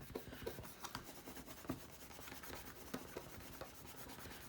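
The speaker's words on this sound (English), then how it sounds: "rub it down" Paper being rubbed down by hand onto a collage surface, a dry scratchy rasp of repeated short strokes, close and steady, with no talking.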